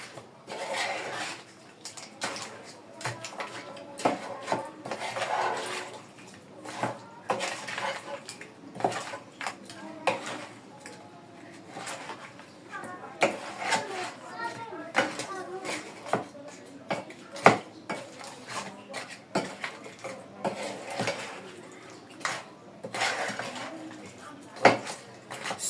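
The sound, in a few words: stirring nkwobi mixture in a pot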